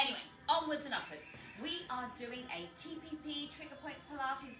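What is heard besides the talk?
No distinct noise like a dog, phone or traffic.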